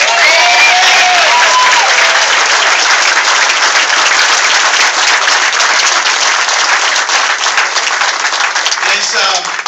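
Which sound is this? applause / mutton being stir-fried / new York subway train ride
applause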